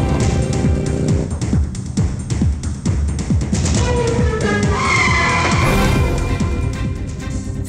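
A car pulls away with tires skidding and squealing as the engine revs hard, loud and close throughout, in an action movie scene.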